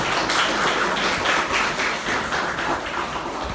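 An audience at a pesantren Qur'an memorization graduation ceremony claps steadily, a continuous wash of hand clapping at moderate loudness with no talk over it.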